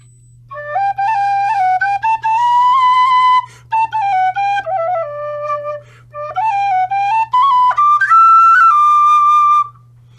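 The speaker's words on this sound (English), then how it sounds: "Irish whistles. Can you just play 2 notes?" An Irish whistle plays a bright, clear, flowing phrase of many notes with quick ornaments and brief breaths between runs, solo and close.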